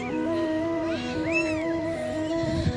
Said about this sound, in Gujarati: પરવીનભાઈ મીંદડી રમાડે છે.